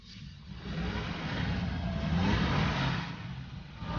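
A 1933 Duesenberg Twenty Grand on the move, its engine a smooth, fairly quiet hum that swells as the car accelerates past, then eases off.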